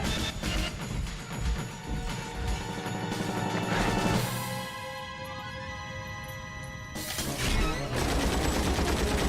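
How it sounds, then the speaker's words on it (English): Final Fantasy VIII battle scene with a 50 cal machine gun firing in dense, loud bursts of rapid shots, a brief lull in the middle, then the heavy fire resumes. "She's not afraid to man the 50 cal machine guns."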